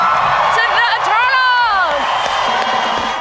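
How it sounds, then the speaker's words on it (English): A crowd erupts in loud cheering, whoops and shouts close by, with excited voices rising and falling over a dense wash of noise. "Big round of applause to the Eternals!"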